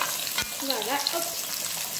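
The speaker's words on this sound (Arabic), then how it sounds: "نخلي الفلفل تاعي يدبر شويه ويتقلى" Green peppers frying in oil in a pot with meat and onion for an Algerian couscous with cabbage, a steady soft sizzle with faint stirring scrapes, close and continuous with no talking.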